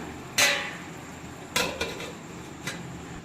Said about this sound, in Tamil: இப்போ இதை மூடி போட்டு மூடி வைக்கலாம்